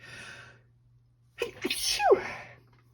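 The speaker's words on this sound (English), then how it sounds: "I can feel a sneeze brewing, so at some point I'm going to sneeze." A single sharp, loud sneeze bursts out after a quiet pause, with a gasping intake leading into it, close to the listener.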